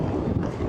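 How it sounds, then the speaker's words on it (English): Strong wind gusting across a hilltop on a hike in Morton National Park, a loud, steady rumbling buffet against the microphone, heard close and with no talking. "it's very windy up here"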